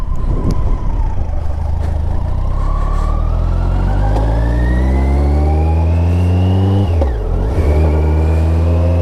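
A motorbike engine revs and pulls steadily while riding a winding road with blind crests and sharp bends, the pitch climbing through gears, dipping sharply at one point, then rising again, loud and close throughout with no talking.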